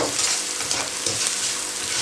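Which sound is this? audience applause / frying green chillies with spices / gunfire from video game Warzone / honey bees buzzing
frying green chillies with spices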